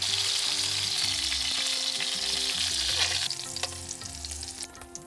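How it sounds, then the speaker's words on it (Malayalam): Chicken pieces for a Kerala-style chicken roast shallow-fry in a pan of oil, browning on both sides: a steady, close sizzle throughout, with a few light scrapes and clinks from stirring toward the end. "ചിക്കൻ ഡീപ്പ് ഫ്രൈ ആയിട്ടല്ല ഞാൻ വറുത്തെടുക്കുന്നത്"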